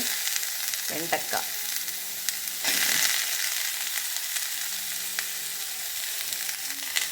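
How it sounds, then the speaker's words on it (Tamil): Okra sautéing in a hot pan gives a steady hiss and sizzle, with a few scraping stirs near the start and a louder burst of frying in the middle. No one talks. "வெண்டைக்காயை போட்டு நல்லா வதக்கிட்டு"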